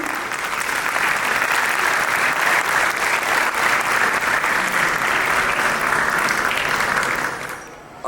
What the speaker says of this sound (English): Please join us in welcoming him with a big round of applause